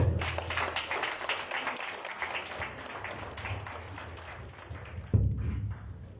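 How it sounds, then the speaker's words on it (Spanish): Audience applause at a political commemoration event, a dense sustained patter of many hands clapping in a hall, with a brief thump near the end. "Fuertes palmas para el compañero."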